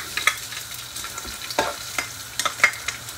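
Chopped onion and garlic fry in a hot pot, with a soft background sizzle and repeated scraping strokes as they are stirred.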